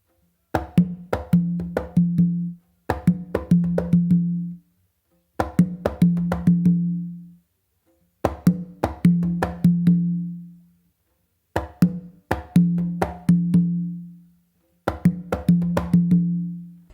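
Conga drums play a repeating guaguanco pattern of slaps and open tones in six short bursts, separated by brief silences, close and clear with no talking.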